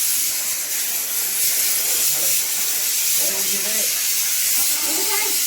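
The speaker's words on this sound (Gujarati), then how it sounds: "સીટી થાય સીટી કુકરની સીટી" A pressure cooker whistle lets off a loud, continuous hiss of escaping steam that runs through the whole moment, with people talking over it.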